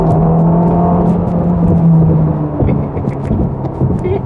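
The 3.8-liter twin-turbo V8 of a Ferrari Roma hums at a low, steady idle close by. The drone holds, then shifts slightly partway through, with faint clicks and small mechanical noises scattered above it.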